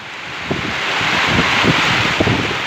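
Strong storm wind buffeting the microphone on a turkey and chicken farm, a continuous rushing roar with low gusty bursts, heavy rain mixed in.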